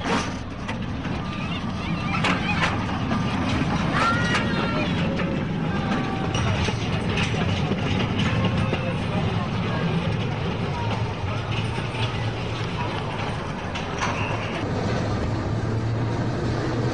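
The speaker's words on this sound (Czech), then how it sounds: "Trať, po které začal důlní vláček jezdit, má zatím pár set metrů." Small mine train running along a short track a few hundred metres long near a mine in Příbram, giving a steady low rumble with faint squeals and clatter throughout, with voices faintly under it.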